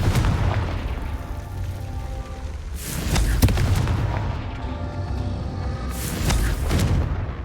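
Two heavy explosive booms from the Confringo blast spell in the video game Hogwarts Legacy burst out a few seconds apart over a rumbling game soundscape.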